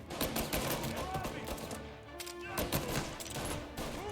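Rapid gunfire from the video game Mafia, dense overlapping shots in a sustained burst throughout, mixed with game sounds and some talk.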